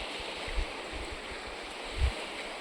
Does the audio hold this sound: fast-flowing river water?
yes